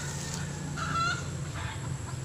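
Hens on a farm give a few soft clucks and short calls, faint against steady background hiss, with no talking.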